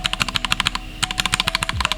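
The space bar of a cheap mechanical keyboard is tapped quickly and repeatedly, giving close, hollow clacks in a fast rattling series of about twenty presses with a short pause midway.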